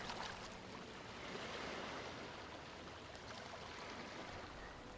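Steady broadband rush of ocean waves washing continuously, even and unbroken throughout, with no voices present.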